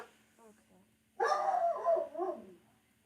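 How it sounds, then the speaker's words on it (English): A dog gives a burst of loud, close yelping barks with a whimpering edge, following a few faint softer sounds and a low steady hum, then trails off into quiet. "Dogs are noisy."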